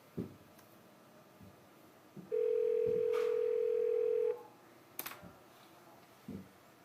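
A steady telephone dial tone plays over a speakerphone for about two seconds, with faint clicks and handling noises before and after.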